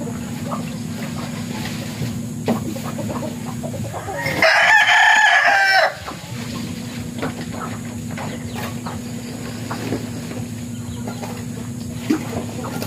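Chickens and chicks cluck around a small farmyard, and a rooster lets out one loud, close crow midway through against a steady low background hum.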